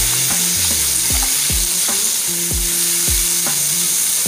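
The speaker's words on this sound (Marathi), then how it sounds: "टॅमॅटो आपल्याला शिजवून घ्यायचा आहे चांगला" Tomatoes frying in a pan while being stirred, a loud, close sizzle broken by repeated scraping strokes of a spoon against the pan in a regular rhythm, with no voices.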